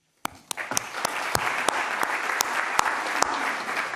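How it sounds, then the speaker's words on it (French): An audience at a conference on the recycling market at Bercy bursts into applause, beginning with a few sharp individual claps and swelling into steady, moderately loud clapping that cuts off abruptly. "On applaudit, non?"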